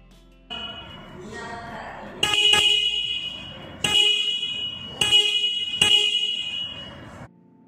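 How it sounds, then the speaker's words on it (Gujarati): A 2024 Hero Xtreme 125R motorcycle's single horn sounds four loud, close, bright blasts in a quick irregular series, each held about a second, after a quieter stretch of low background. "મિત્રો આ રીતનો કંઈક આપણા સિંગલ હોર્નનો અવાજ આવે છે"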